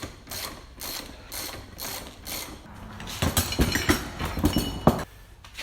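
Ratchet wrench clicking steadily as spring pressure is released on a Porsche 981 front suspension strut, a rapid run of close, even pawl clicks that grows louder and harsher toward the end.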